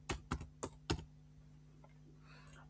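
A few distinct, close keystrokes on a computer keyboard while typing a task, spaced unevenly over the first second, followed by a quieter stretch with a faint low hum.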